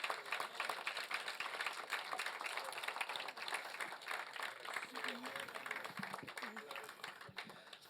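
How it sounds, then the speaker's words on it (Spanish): A church congregation clapping in praise during a worship service, a continuous dense patter of many hands, with voices talking and calling out underneath. "Yo no sé si usted tiene unas palmas para el Señor."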